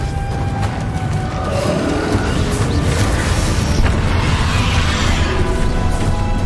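Confringo fire spell blasts in the Hogwarts Legacy video game, a dense, loud rumble of overlapping explosions and crashes that continues without pause, thick with low booming energy.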